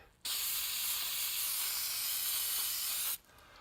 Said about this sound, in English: Just literally spray it on,